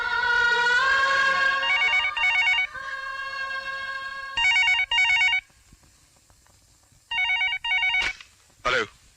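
A telephone rings in repeated bursts of bright trilling tones, loud and close, with musical tones at the start and a pause between rings.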